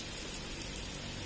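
Steady, persistent rain falls on a garden and road, making an even, soft hiss with no distinct drops standing out.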